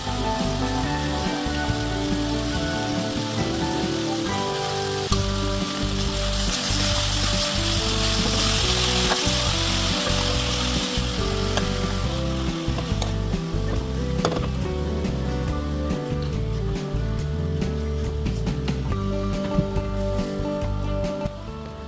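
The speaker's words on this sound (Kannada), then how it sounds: "ನಂತರ ಚಿಕ್ಕದಾಗಿ ಕತ್ತರಿಸಿ ಇಟ್ಟುಕೊಂಡ ತಗಟೆ ಸೊಪ್ಪಿನ ಎಲೆಗಳನ್ನು ಅದಕ್ಕೆ ಸೇರಿಸಿ ಪುನಃ ಸೌಟಿನಿಂದ ತಿರುವಬೇಕು" Chopped Cassia tora greens sizzle steadily in a hot pan as a ladle stirs them, a dense, continuous frying hiss with soft scraping knocks close by.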